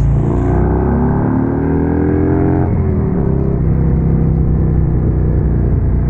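Rinehart DBX45 exhaust pipes on a Harley Street Glide motorcycle downshifting while riding at the speed limit, giving a loud, deep, steady rumbling roar with a falling pitch sweep partway through.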